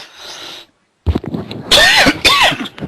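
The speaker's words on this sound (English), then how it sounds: "Excuse me for a cough." A person coughs a few times in quick succession, loud and close, with breathy throat sounds around them and no talking.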